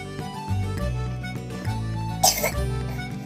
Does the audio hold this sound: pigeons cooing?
no